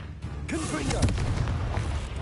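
A Confringo fire spell blasts in the Hogwarts Legacy video game, a loud booming explosion burst with rumbling tail amid combat, a voice speaking over it.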